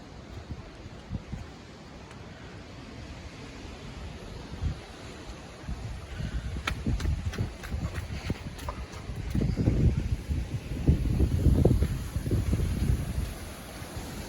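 Strong gusting wind of about 45 mph roars across the microphone in rising surges, buffeting and rumbling loudly with some rattling, no one speaking.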